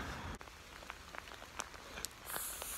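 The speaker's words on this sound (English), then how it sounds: "It is spitting rain right now." Light rain spits down during a hike, scattered drops ticking close by over a soft steady patter, with no voices.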